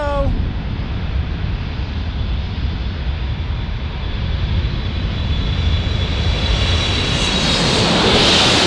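A British Airways airliner flies past at San Diego airport, its engine roar steady and growing louder near the end, with wind buffeting the microphone throughout.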